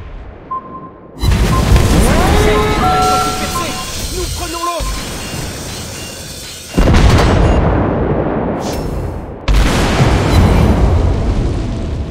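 A torpedo explosion in the naval battle game World of Warships, heard as a loud booming impact over steady battle noise, followed by two more heavy bursts; talk runs underneath.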